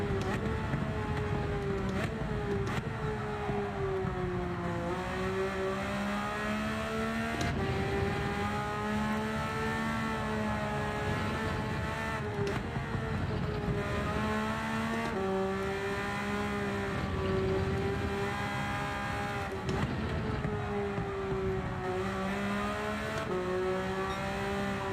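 A race car engine in a racing video game holds a steady, loud tonal whine through a qualifying lap, its pitch rising and falling with gear changes and corners, continuous and alone without speech.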